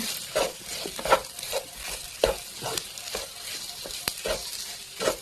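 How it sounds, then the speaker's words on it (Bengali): Potatoes with salt, chili powder and turmeric are stirred in a pan over a low sizzle, with soft rhythmic scraping and clacking strokes roughly every half second, close and moderately loud. "এখন গ্যাস এটা ভালোভাবে মিক্সড করে নেব।"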